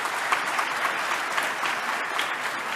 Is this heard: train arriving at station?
no